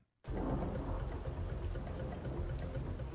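Heavy rain roars in steadily after a sudden start on a rainy night, with a low rumble of thunder beneath the dense downpour and no voices.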